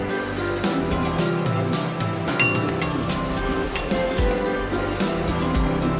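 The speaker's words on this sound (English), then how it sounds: "So I'm gonna stir this so it's thoroughly mixed." Soy wax melted for a lavender candle is stirred with fragrance oil, giving steady, close clinking and tapping against a glass container, with small irregular chinks throughout and no talking.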